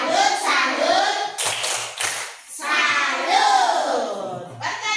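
Children in an Indonesian classroom do the 'tepuk salut' chant, shouting in rhythm between bursts of close group clapping.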